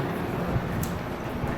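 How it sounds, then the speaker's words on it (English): A New Jersey Transit train rumbles steadily in a station, a dense low roar with faint rail hiss, continuous and close, without talk. "that was the New Jersey Transit train"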